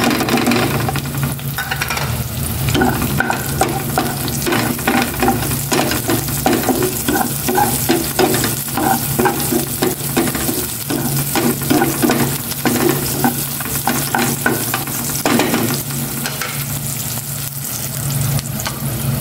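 Onion frying in a pan with a loud, dense, continuous sizzle and a steady scrape of stirring throughout, no voices.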